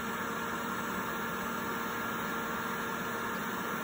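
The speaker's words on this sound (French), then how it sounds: "Vitesse 3, c'est la vitesse maximum qu'on préconise pour la pompe" A Hayward variable speed pool pump, model RS2 on a 14 cubic metre filter, running at top speed: a steady, even hum and whir with a constant high whine and no change throughout.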